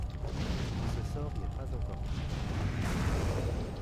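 Fire mage Living Bomb spells go off in a video game as a dense rumble of overlapping booming explosions. The blasts are loud and continuous, with a voice talking over them.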